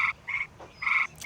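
Small frogs croaking outdoors in nature, three short raspy calls in quick succession, close and clear against a quiet background.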